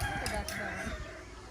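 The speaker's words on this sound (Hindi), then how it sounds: "अच्छा मुर्गी हैं।" Chickens cluck and murmur at a farm storehouse, a steady close cluster of hen calls lasting a moment, with a voice speaking over them.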